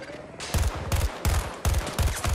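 Video game firefight gunfire pounds in five heavy, evenly spaced bursts across two seconds, each a loud booming volley, with no talking.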